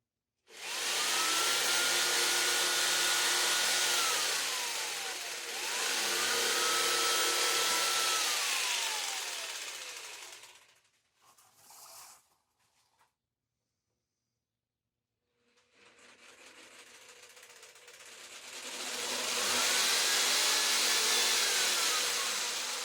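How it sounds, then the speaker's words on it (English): Jigsaw cutting material for a DIY Toyota Tacoma tailgate cover, two long loud passes with pitch sweeping as the blade loads, a short quiet gap, then cutting resumes near the end. "just going to cut in with the jigsaw."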